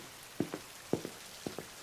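Heavy drops of rain fall during a downpour, landing as a few distinct paired taps against a faint background hiss, close and moderately loud with no voices.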